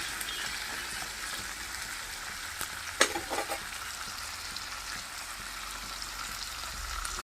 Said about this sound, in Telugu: ఇందులోనే మనము కట్ చేసుకున్న మామిడికాయ, మునక్కాయ కూడా వేసేసుకున్నాం. ఇవి కూడా వేగుతూ ఉంటాయి.